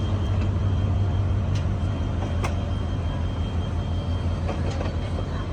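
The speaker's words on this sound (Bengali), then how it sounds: "দেখতে দেখতে আমাদের ট্রেনখানা ছেড়ে দিল" A train pulls out of Kaunia railway junction with a steady low rumble of rolling wagons, a faint whistle tone and occasional clanks, no voices.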